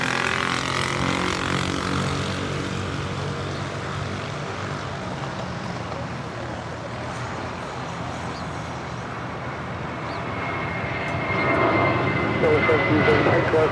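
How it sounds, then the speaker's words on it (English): Spirit Airlines Airbus A320 jet departing Los Angeles International Airport, a broad steady engine roar that builds again toward the end, with people talking over it. "That is Spirit Airlines 1073 departing to Nashville, Tennessee on an A320"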